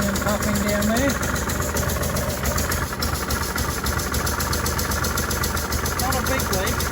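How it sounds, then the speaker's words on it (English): A 2005 Honda Deauville NT650V motorcycle idles with a leaking exhaust pipe, giving a steady, close huffing and puffing pulse that runs unbroken under a dense mechanical drone. "how to find the exhaust pipe leak, and it is leaking, popping and banging"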